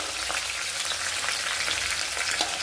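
Curry leaves and spices sautéing in a pan for a black-eyed pea and potato dish, making a dense, continuous close-up sizzle with light stirring and no voices.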